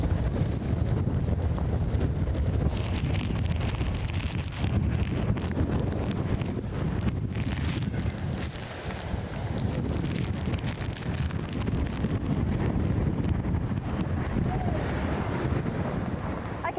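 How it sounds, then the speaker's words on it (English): Hurricane Ian making landfall, its winds a continuous loud roar with heavy buffeting on the microphone and no breaks throughout. "Yes, that's the roar. You hear the roar. That's the roar of the hurricane."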